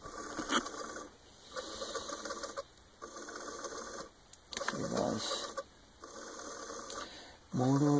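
An electric motor driven by an L298N motor controller and a Parallax Propeller microcontroller whirs in repeated mechanical bursts with brief pauses between them, and a louder rising tone comes in at the end.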